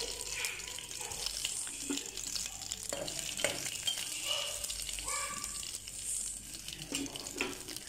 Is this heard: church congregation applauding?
no